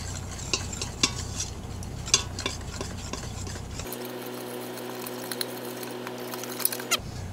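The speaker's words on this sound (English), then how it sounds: "We'll take our whisk and we'll just start whisking this on together here." Whisk stirring a roux with beef bouillon cubes in a pot: soft, close scraping and tapping strokes over a low sizzle, fairly quiet, with a steady electrical hum in the latter half.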